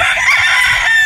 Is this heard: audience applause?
no